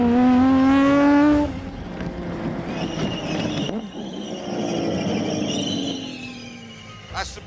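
Brakes on an Aston Martin Vulcan give a loud, high squeal that slides downward, then the car's engine and road noise carry on under a fainter squeak.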